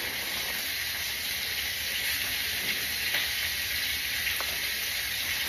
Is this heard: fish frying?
yes